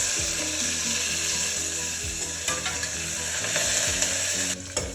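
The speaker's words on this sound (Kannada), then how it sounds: "ಇವಾಗ ಎಣ್ಣೆ ಕಾದ್ಮೇಲೆ ಸಾಸಿವೆ ಜೀರಿಗೆ ಹಾಕೊಂತ ಇದ್ದೀನಿ, ಕಡಲೆಬೇಳೆ," Onion, curry leaves, chana dal, mustard seeds and cumin sizzle in hot oil, a bright continuous frying hiss with the scrape of stirring now and then.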